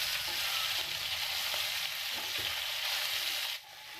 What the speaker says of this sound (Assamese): মাছখিনি ভালকৈ ইলুটি সিলুটি কৰি ৰঙা হোৱালৈকে আমি মাছখিনি ভাজিম।